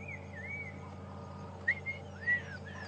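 A black-crowned tchagra gives a faint whistling call on a sunrise safari drive, with a few short, clear rising and falling whistled notes over a steady low engine hum.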